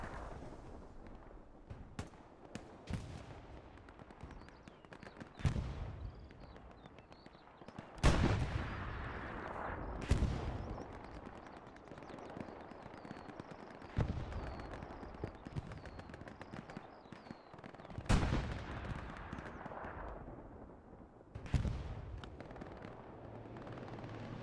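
Gunfire in the World War II shooter Hell Let Loose during a championship match: several sharp, booming shots spaced across the stretch, some loud and close, others more distant, over a steady low battlefield din.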